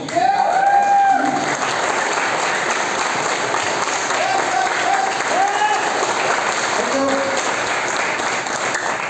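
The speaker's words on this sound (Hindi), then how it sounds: "एक्साइटमेंट दिखा दीजिए अपनी ताली" An audience claps steadily and loudly throughout, a dense continuous applause with a few voices calling out over it.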